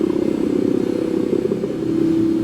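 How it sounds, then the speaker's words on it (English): A synthesizer drone run through a granular effect plugin holds a loud, steady low hum with a grainy, fluttering texture, sustained throughout without any voices. "And then we really started to get some interesting drone sounds now."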